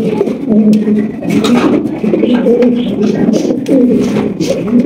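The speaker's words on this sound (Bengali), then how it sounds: "দর্শক, এখানে রয়েছে একজোড়া হলুদ কালারের ক্যাপাচিনো কবুতর।" A pair of yellow Capuchin pigeons coos close by, soft repeated throaty rolling calls in a steady rhythm, with faint clatter and background voices around them.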